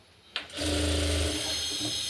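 Sewing machine running steadily while joining the lining all around a designer blouse, a close, continuous mechanical whir that starts after a brief click and holds for about two seconds.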